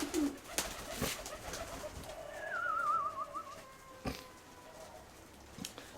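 Loft pigeons gather for grain scattered after a morning of restricted feeding, with soft cooing, a few bird whistles and sharp wing flaps or pecking clatters breaking through a quiet background.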